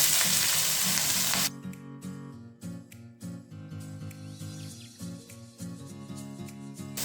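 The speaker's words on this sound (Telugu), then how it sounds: "ఇవి కాసేపు ఫ్రై అవ్వాలండి." Mustard seeds, cumin, onions and green chillies fry in hot oil for a fish curry, a loud close sizzle that dominates the first moments, then keeps crackling underneath background music.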